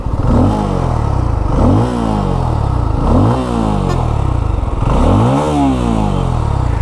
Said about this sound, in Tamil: இந்த எக்ஸாஸ்ட் சவுண்டை பற்றி நீங்கள் என்ன நினைக்கிறீங்க மறக்காமல் கமெண்ட் செக்ஷனில் சொல்லுங்கள்.